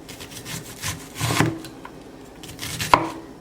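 A knife chops onion on a board: a few irregular, clustered thuds and scraping taps, close and fairly soft, with no talking over them.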